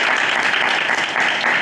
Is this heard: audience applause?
yes